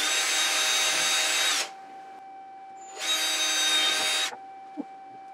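A power drill whines steadily through wood in two bursts while drilling holes in a salt shaker on a lathe, each lasting over a second, separated by a short pause, close and loud.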